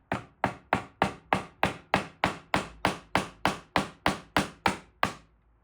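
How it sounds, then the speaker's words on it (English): A hammer taps a C-clip onto a brass hose connector during pressure washer assembly, striking about fourteen times in a steady, even rhythm, each blow sharp, close and loud, with no talking. "You'll need to use a hammer to tap the C-clip into place so that it rests flush on the brass connector."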